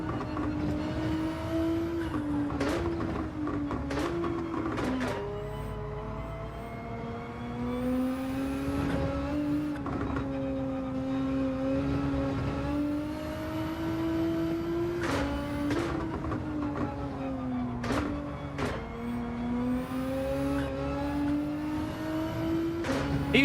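Race cars in Gran Turismo 7 drone continuously, one engine rising and falling in pitch through gear changes with occasional sharp shifts, an unbroken racing engine note.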